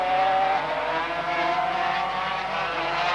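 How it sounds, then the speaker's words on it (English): 500cc Grand Prix racing motorcycles at the 1984 Trans-Atlantic Trophy scream past at high revs, a sustained, dense engine howl that holds steady throughout. "they're sliding these 500cc motorcycles on every corner"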